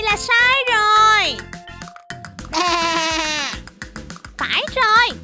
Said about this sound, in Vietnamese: Phải rồi, đây là tiếng kêu của bạn cừu bông mà.